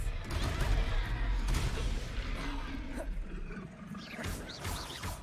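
Spell-casting effects in a Hogwarts wizard duel, a dense, rumbling clash of magical blasts and impacts throughout, with raised voices mixed in.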